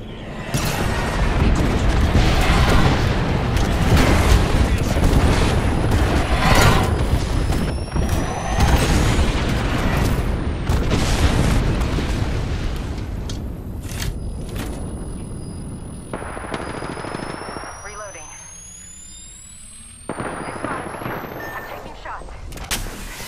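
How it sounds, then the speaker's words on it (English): Airstrike in the Apex Legends battle royale game: loud rumbling explosions and heavy blasts pile up in a dense barrage, then give way to quieter whooshing and whistling tones as the bombardment dies down. "Civilian airstrike on us."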